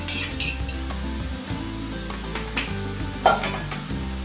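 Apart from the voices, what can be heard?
stir frying cauliflower rice with meat in a pan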